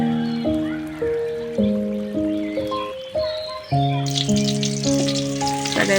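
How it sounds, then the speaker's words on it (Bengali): Onions fry in a little oil into crisp birista, a steady sizzle that swells louder midway, heard under prominent melodic background music. "আমি ওই কারণে অল্প করে তেলের মাঝে একটু পেঁয়াজ বেরেস্তা করে নিতেছি।"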